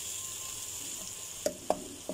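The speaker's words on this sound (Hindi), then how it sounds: "एक बार हिला लेते हैं।" A spoon stirs softened tomatoes in a pan over a faint steady sizzle, with a few quiet scraping knocks near the end.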